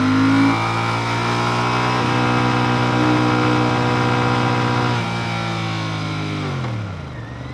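A 2024 Royal Enfield Shotgun 650 twin engine pulls hard in first gear, its note climbing steadily and loudly, then easing off as the revs drop near the end.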